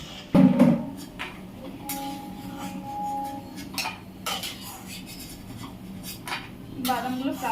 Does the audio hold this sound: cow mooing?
no